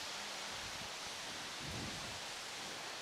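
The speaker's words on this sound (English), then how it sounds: "look at the rain coming down now." Rain pours down steadily over an outdoor bowls green, a dense even hiss with a brief low rumble midway.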